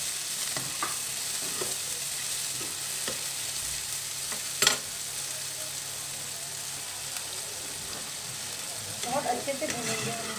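Finely chopped onions fry in a pan with a steady, close sizzle, broken by a few scraping stirs and a sharp clatter midway.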